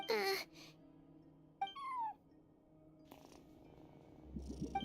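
Cat in Genshin Impact sounds out in short separate bursts, a couple of brief high cries set apart by quiet gaps, with a low rumbling purr stirring near the end, all faint.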